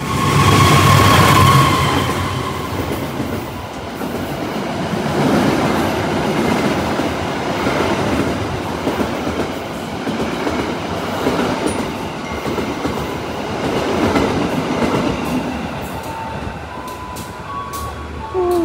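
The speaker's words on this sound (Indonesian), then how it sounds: "Masih dapat momen silangan kereta api Argo Sindoro dari arah Jakarta Gambir tujuan Semarang Tawang." The Argo Sindoro passenger train rumbles steadily past up close at a station, with rhythmic wheel clatter and rail noise, a brief horn-like tone at the start and no talking.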